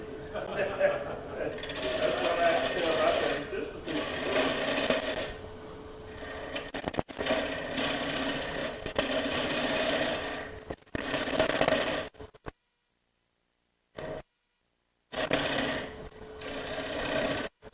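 A bowl gouge cuts wood on a lathe while turning a hat, giving bursts of rough scraping and chattering that stop and start, with a couple of silent gaps and people talking nearby.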